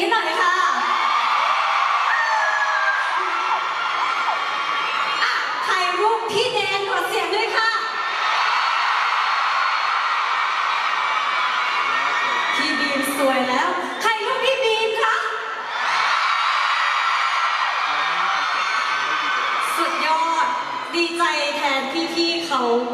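A large concert crowd at a concert screams and cheers continuously, loud and shrill, with swells of shouting rising and falling throughout.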